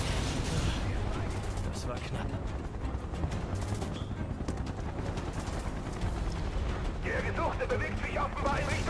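Gunfire from the video game Final Fantasy VII Remake crackles in dense, rapid bursts under a constant noisy din, with shouting voices mixed in.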